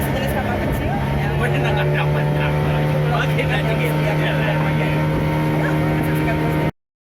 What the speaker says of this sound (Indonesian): Ini namanya pompong ya. Pompong itu sejenis kapal kecil yang